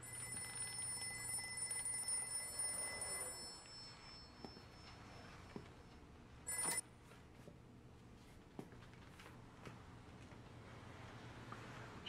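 A telephone rings with a steady electronic trill, fairly faint, over a low background hum, continuing for several seconds with no talking.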